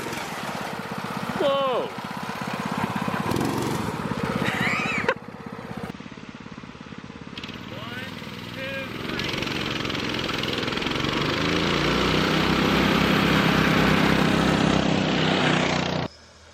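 A Dodge truck with a 68RFE transmission and mounted trans cooler revs up as its engine warms, a loud continuous drone that builds and holds steady, with a person exclaiming briefly early on.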